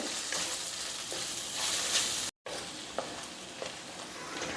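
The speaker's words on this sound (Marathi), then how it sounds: "आता आपल्याला ह्यामध्ये आलं लसणाची पेस्ट घालायची आहे आणि पुन्हा मी दोन ते तीन मिनटं छान परतून घेणार आहे" Ginger garlic paste frying in a pan for Punjabi chole masala, a steady broadband sizzle with occasional stirring scrapes and a brief break in the middle.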